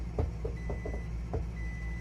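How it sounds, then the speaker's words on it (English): Kitchen timer going off when cooking time is up, a handful of short, fairly faint beeps spaced irregularly over a steady low background hum, with no talking. "Timer's done."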